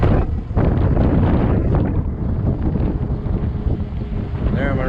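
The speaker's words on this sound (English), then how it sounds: "Damn wind sucks." Strong wind gusts buffet the microphone while riding a 20-inch 48V Ecotric fat-tire e-bike on a hot day, a loud, continuous rumbling roar that swells and dips throughout, with faint voices underneath.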